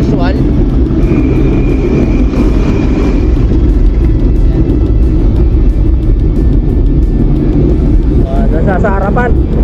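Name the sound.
road traffic near Balagtas market, Bulacan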